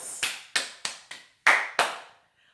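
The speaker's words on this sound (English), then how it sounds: "A round of applause." Six separate claps from a teacher in a classroom, sharp and close, spaced in an uneven rhythm that slows and softens before stopping, with no talk over them.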